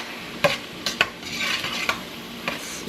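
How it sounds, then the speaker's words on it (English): Cheeseburger soup ingredients stirred in a pot, a few sharp clinks of a spoon against metal over a faint bubbling sizzle, close and without talk. "And we're going to give that a mix."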